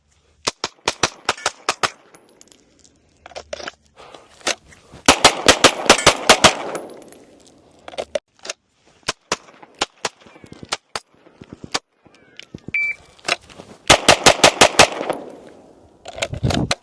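Springfield Prodigy 1911/2011 handgun firing at a range, with sharp, loud shots in rapid strings and short pauses, several bursts of quick follow-up shots spread across the stretch.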